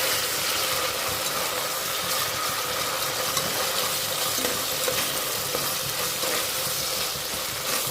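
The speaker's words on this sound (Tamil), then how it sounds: "இஞ்சி பூண்டு பேஸ்ட்டு போட்டிருக்கேன், அதையும் போட்டு வதக்கிக்கலாம்." Onions with ginger garlic paste sautéing in oil for chicken macaroni biryani, a steady, close hiss of frying that holds constant, with faint stirring clicks and no voices.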